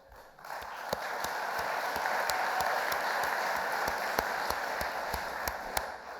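Steady audience applause at a formal gala for chairman Paul Robinson, an even wash of many hands clapping at moderate distance, sustained throughout with a few sharper claps standing out.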